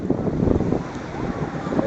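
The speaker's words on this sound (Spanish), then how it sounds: "El gigantesco mar." A rough sea churns under strong wind at the Santo Domingo seafront during Tropical Storm Isaac, with a constant roaring rumble of surf and wind buffeting the microphone. It stays loud and steady, and nobody speaks.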